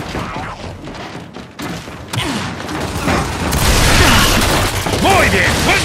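Gunfire in the video game Battlefield 2042, bursts of shots and heavy thuds building into a loud, dense barrage with mechanical clatter and game voices shouting over it.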